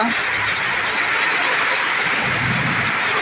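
Heavy rain pours steadily in Gazipur, a dense continuous wash of noise without a break, loud and close throughout.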